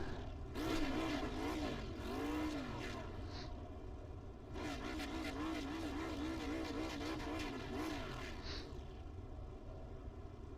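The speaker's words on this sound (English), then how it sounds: "Drivers, start your engines." Race car engines idling and revving on the grid at Laguna Seca in a sim racing game, wavering engine tones under faint crowd-like noise, two rising swells of revving across the stretch.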